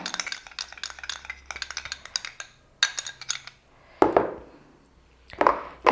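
Aloe vera gel is mixed into a golden facial pack, with quick clinking and scraping strokes in an irregular rhythm, a short pause, then a few louder separate scrapes.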